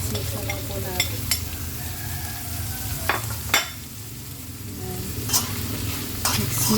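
A spoon stirs squash (kalabasa) frying in a pan. It scrapes steadily over a constant close sizzle, with a few sharper clinks of utensil on metal.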